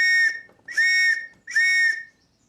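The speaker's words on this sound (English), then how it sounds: "my trusty ARP whistle" An ARP warden's whistle on a wartime farm is blown three times, each a loud shrill blast of about half a second with short gaps between, close and clear with no voices.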